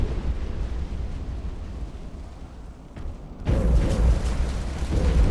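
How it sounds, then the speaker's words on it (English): Heavy explosions from friendly torpedoes striking ships in the naval warship game Ultimate Admiral: Dreadnoughts: a low, steady rumble swells into a loud, booming blast partway through that keeps roaring to the end, with no voices. "Those were our own torpedoes. Ouch. Those are also our own torpedoes."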